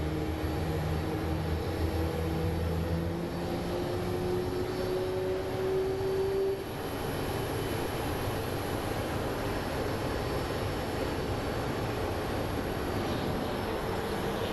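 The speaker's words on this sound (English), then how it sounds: "And then over here we do have a little Embraer getting ready to depart." A small Embraer jet departs Phoenix Sky Harbor airport, its engines producing a steady, distant roar and a rising whine that fades, under a constant outdoor hum.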